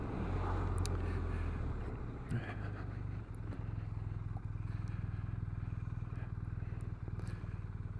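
A BMW Motorrad R1200RS motorcycle being ridden, its engine a steady low drone with wind buffeting throughout, loud and close from start to finish with no voices.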